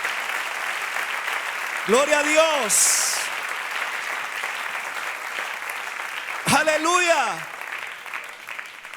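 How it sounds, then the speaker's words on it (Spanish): A church congregation applauds in a steady wash beneath a preacher, who calls out praise in Spanish twice over the clapping. "Dele un aplauso al Señor,"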